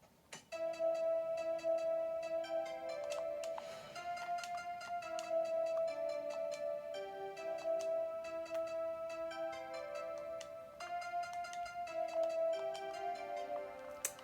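Jingle Bells played as a melody on Fortnite music blocks through a sequencer in the video game, with a steady bright tune of repeated pitched notes running throughout, moderately quiet and with no voices.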